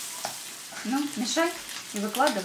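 Bacon frying in a pan, a steady close sizzle running under a voice talking while the food is stirred.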